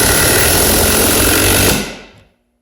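Milwaukee mid-torque impact wrench on speed setting 3 driving a lag bolt, one loud continuous hammering burst close up for nearly two seconds before it stops and dies away.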